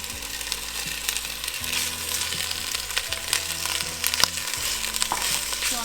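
Ground beef and sausage brown in olive oil in a pan, a continuous crackling sizzle with occasional scraping and stirring, close and steady without talk.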